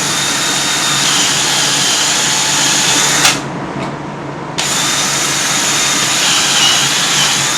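Power drill boring holes into a workpiece, a loud sustained whine that cuts out briefly partway through before starting up again, close to the microphone.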